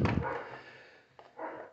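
A neighbour's dog barks nearby, one loud bark followed by a softer yip and a trailing whine-like bark, brief and alone.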